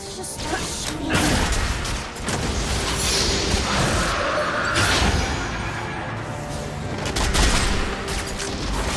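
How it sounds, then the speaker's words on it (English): Video game gunfire crackles in dense bursts throughout, mixed with whooshes and mechanical clanks, loud and continuous, with a voice speaking faintly underneath. "let's just start shooting"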